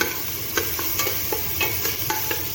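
Chili and aromatics stir-fried in a hot pan for Filipino papaitan, with a steady sizzle broken by several sharp scraping stirs of a utensil at an even rhythm, close and fairly loud, with no talking.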